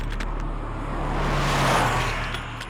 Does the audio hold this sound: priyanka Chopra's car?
yes